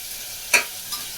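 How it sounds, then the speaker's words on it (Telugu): Chopped onions fry in a pan toward golden brown, a steady soft sizzle with one sharp stir or scrape midway and a fainter one just after, no voices. "ఇప్పుడు ఆనియన్ ఫ్రై అయ్యే వరకు, గోల్డెన్ బ్రౌన్ అయ్యేంత వరకు ఫ్రై చేయాలి"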